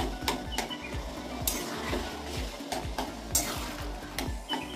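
Green and dried chillies frying in hot oil for a Bengali kochu shak dish, a soft continuous sizzle with repeated light clinks and scrapes of stirring, no voices.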